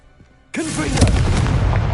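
A Confringo explosion spell from Hogwarts Legacy goes off with a sudden loud blast. It sets into a sustained roaring, crackling rumble that fills the rest of the moment.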